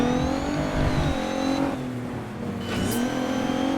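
Rally car engine in the Dirt 3 video game holds a steady loud drone through a cornering, pitch dipping as it slows and then climbing again as it revs out, with a brief high tire squeal near the end.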